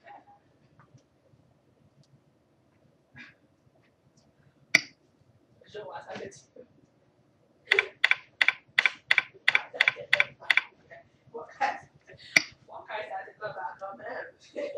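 Typing on a computer keyboard while entering a password during a WordPress setup, sparse clicks at first, then a quick close run of crisp keystrokes followed by more scattered taps, with no talking.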